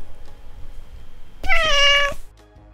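A domestic cat gives a single clear, drawn-out meow of about half a second, close and loud against a quiet background.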